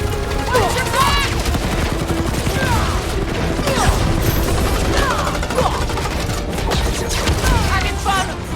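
Rapid gunfire and bursts of automatic shooting in the Guardians of the Galaxy video game, a dense, continuous clatter with crashes, heard under shouted voices and game effects throughout.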